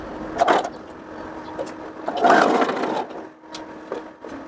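A home sewing machine stitches fabric for a lined child's dress with a ruffled yoke, running in two main bursts of whirring with quieter pauses between, close and moderately loud.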